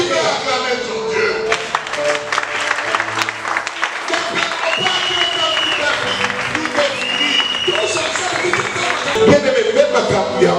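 Congregation in a church clapping and cheering loudly and continuously, mixed with voices and sustained vocal tones that rise and fall, a lively crowd throughout.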